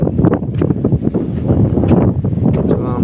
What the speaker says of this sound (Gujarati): તમે વિચાર કરો પવન બહુ આવે છે